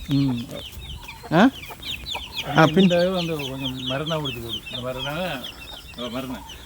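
Several chickens cluck and squawk close by in an uneven, busy stream, with a voice speaking briefly among them.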